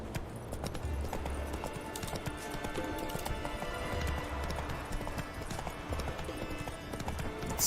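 Roach, the horse in The Witcher 3: Wild Hunt, gallops with a steady, rhythmic clip-clop of hoofbeats, running continuously and close over a bed of game ambience with no talking.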